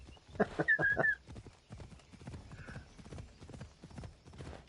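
Horse hooves in the video game Assassin's Creed Odyssey, a steady clip-clop gait running throughout at moderate volume, with a short whinny near the start and a faint whistle midway.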